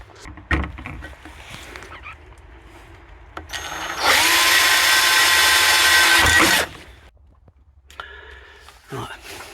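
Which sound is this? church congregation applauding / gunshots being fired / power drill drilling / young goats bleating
power drill drilling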